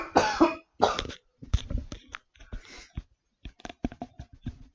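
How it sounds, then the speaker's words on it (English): A coughing fit: a series of harsh, close coughs and throat-clearing bursts in quick succession, fairly loud and with no speech over them. "I have a coughing fit."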